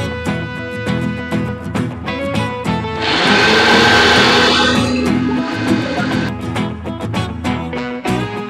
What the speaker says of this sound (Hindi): अब इसको पीस के इसके बनाएंगे पकौड़े। तो चलिए इसको पीसते हैं।